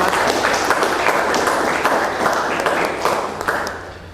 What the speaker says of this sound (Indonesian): berikan tepuk tangan untuk kelompok 5.